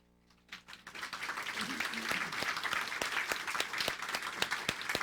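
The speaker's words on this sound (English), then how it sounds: "would you please stand and let us give you a round of applause?" A crowd bursts into sustained applause, steady dense clapping that builds quickly and continues strongly throughout.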